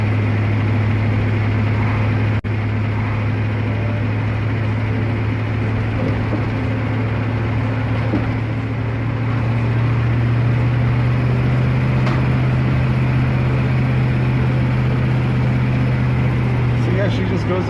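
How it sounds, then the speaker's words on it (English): A car engine with newly replaced spark plugs runs smoothly, a steady low hum that holds evenly throughout and rises slightly midway, as if climbing a hill, with continuous close engine and road noise. "You can hear the motor is running beautifully."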